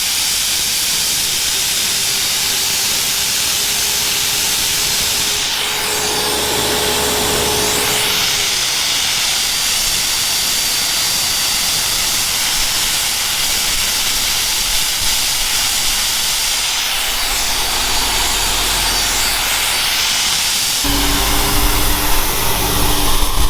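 An Applied Concepts Aquablaster water blasting unit with an MF 1200 engine runs steadily, giving a loud, continuous high-pressure hiss and roar with the engine drone underneath and a few shifts in pitch as pressure changes.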